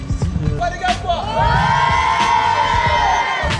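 A group of young footballers at an urban crossbar challenge erupts in a loud rising cheer and whoop after a few scattered thuds and shouts, with the yelling held high and close.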